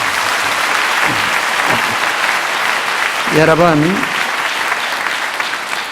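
Church congregation applauding at a baptism service, steady dense clapping filling the whole stretch while someone speaks over it through a microphone.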